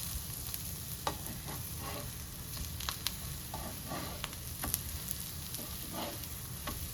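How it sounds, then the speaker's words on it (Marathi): Vegetarian fish pieces shallow-fry in a little oil in a pan, a soft, continuous sizzle with scattered crackles and pops, fairly quiet and close, with no voices. "आता भाजून घ्यायचे मस्त. पण थोडंसं तेल टाकायचं."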